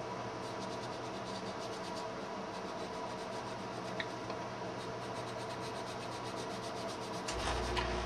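Fine-grade sandpaper rubs over a plastic piece in steady, quiet back-and-forth strokes, a soft continuous scratchy rasp at close range.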